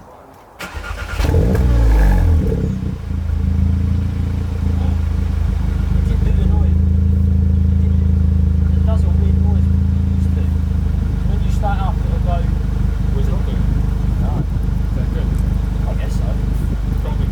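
A Volkswagen Polo GTI engine cranks and starts after an oil leak repair, then settles into a loud, steady idle with a low rumble and light clatter.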